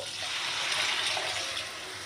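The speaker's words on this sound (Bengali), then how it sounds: "এখন এখানে দিয়ে দিব পরিমাণ মতো পানি" A steady gush of water is poured into fried rice in a pot while cooking basanti pulao for Eid, a continuous close pour lasting about two seconds with no talking.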